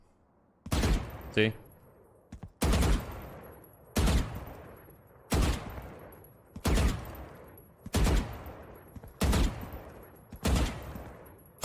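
Repeated bursts of automatic gunfire spray from the Valorant video game, seven loud sharp volleys spaced roughly every 1.3 seconds, with a brief spoken word near the start.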